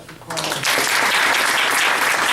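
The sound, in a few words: applause for Carly at board meeting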